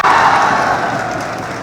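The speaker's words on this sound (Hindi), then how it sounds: "तालियां बजाओ, जोरदार तालियां." A classroom of students clapping loudly together, a dense and steady burst of many hands that fills the room, close and fairly even throughout.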